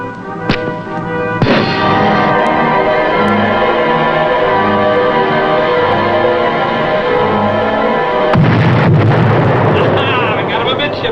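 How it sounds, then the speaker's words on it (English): A torpedo strikes a tanker amidships in a wartime submarine drama, with a heavy blast that opens into a long roaring rumble and a second loud burst near the end, all over dense, steady low noise. "First torpedo hit a tanker amidships."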